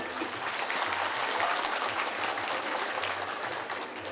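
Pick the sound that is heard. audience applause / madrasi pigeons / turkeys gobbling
audience applause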